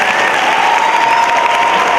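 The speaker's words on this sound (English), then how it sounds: "let's keep the applause going as Representative Lewis leads" Loud, steady applause from a big high school crowd greeting Representative John Lewis, continuous close clapping with a few voices and cheers woven through.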